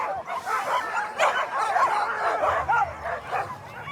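A crowd of eager sled dogs bark, yelp and whimper together at the start of the Willow 300 mid-distance sled dog race, a loud continuous chorus of overlapping voices nearby.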